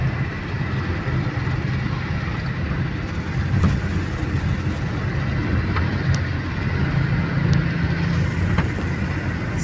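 A Porsche 3.0-litre sports car engine runs with a steady, low rumble throughout, close and continuous, with faint clicks on top and no speech.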